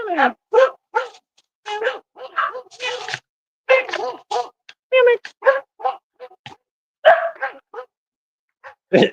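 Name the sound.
dogs barking at a storm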